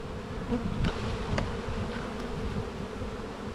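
Steady buzzing of many honey bees close by around a hive, a dense continuous drone with a few brief louder passes, no voices.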